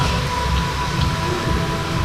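Rain falls steadily on a gloomy day, a constant close hiss over a low rumble, with a faint steady tone running beneath it and no talking.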